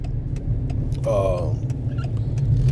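A car drives along, a steady low engine and road rumble close by with a brief voice heard over it.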